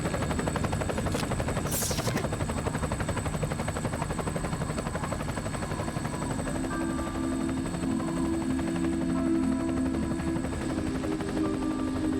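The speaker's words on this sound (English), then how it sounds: "A helicopter that survives a Resident Evil game." Helicopter in the video game Resident Evil 4 (Separate Ways), a steady loud rotor thrum and engine whine running throughout, with a brief high whoosh early on.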